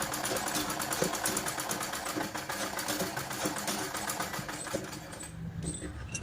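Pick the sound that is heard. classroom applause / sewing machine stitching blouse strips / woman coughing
sewing machine stitching blouse strips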